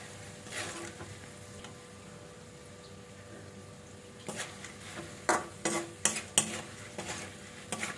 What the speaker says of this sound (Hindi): And will mix it.